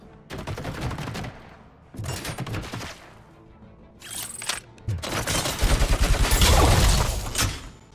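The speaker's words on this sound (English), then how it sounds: "Are they still shooting at me?" Enemies firing guns in a video game, several bursts of rapid automatic gunfire separated by short pauses, ending in a louder, sustained volley.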